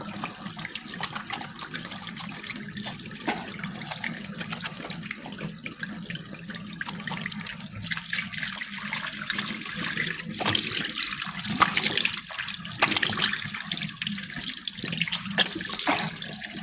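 Tap water runs steadily into a bathroom sink during a morning face wash, a continuous close splashing flow with small surges, no talking.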